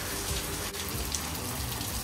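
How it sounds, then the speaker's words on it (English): Rain falls outside in a home garden, a steady, even patter of drops with a faint wet hiss that stays constant throughout, moderately close and with no voices over it. "but we are not done with the rain."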